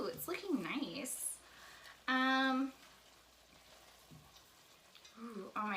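Risotto with Pinot Grigio sizzles softly in a pan while being stirred, a low bubbling and scraping beneath people talking, with a brief bright tonal burst partway through.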